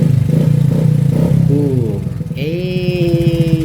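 Kawasaki CT100 motorcycle engine catching after a kick start: low chugging rumble that rises into a revving, steady idle, close and loud with no talk.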